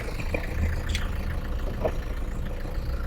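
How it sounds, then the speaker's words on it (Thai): A 2012 Toyota Fortuner 3.0 TRD Sportivo 4x4 with a D4D diesel engine idles, a steady low rumble close by with a few light clicks and knocks over it, and no voices. "เครื่องยนต์นะครับ D4D เครื่องยนต์เดียวกับ Vigo แชมป์คุณผู้ชม ซ่อมง่ายดูแลง่ายอยู่แล้ว"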